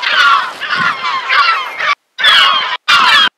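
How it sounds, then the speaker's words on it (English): Seagulls call agitatedly on a shoreline, loud, harsh, overlapping cries close by that come in dense bursts and break off sharply into brief silences. "you can absolutely hear these seagulls are going mad"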